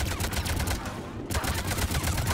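Rapid turret gunfire from a Mass Effect shootout rattles on in dense, steady bursts, loud and close, with a short lull near the middle before the firing picks up again.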